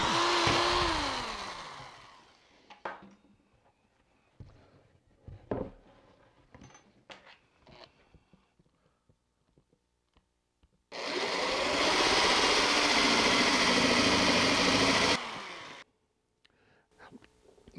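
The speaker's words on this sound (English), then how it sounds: "I'm using an electric drill, and it's got a 3/4 inch wood bit in it." An electric drill fitted with a 3/4 inch wood bit whines at full speed through wood in two bursts, a short one at the start and a sustained four-second run later, separated by quiet handling knocks.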